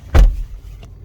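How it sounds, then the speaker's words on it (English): A car with ignition trouble cranks and catches in one short, loud burst, then drops to a low, steady idle rumble. The engine is close and there is no talking. "Car started."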